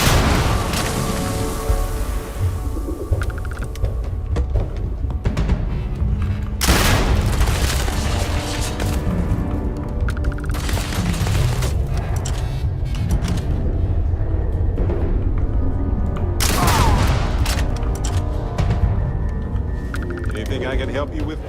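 Gunshots from the video game Starfield ring out as loud, booming bursts at intervals across a steady game soundscape, with a player talking throughout.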